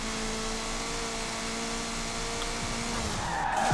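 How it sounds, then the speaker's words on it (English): Tires squeal in a long, steady skid as a car pulls a handbrake slide across the finish line of a championship race in Forza, loud and continuous with engine hum beneath. "Big handbrake finish"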